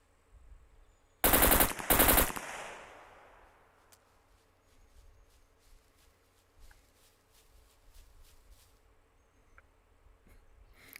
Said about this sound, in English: Was that you shooting or them shooting? I just shot up into the air.